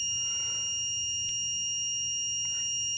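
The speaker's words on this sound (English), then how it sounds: "the red light stays on and the system is beeping" A steady, high-pitched overload warning tone from a Carrydeck crane's i4300 console sounds continuously, with a faint low hum beneath it.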